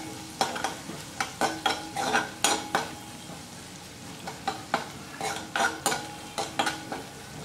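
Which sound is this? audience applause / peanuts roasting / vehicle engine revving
peanuts roasting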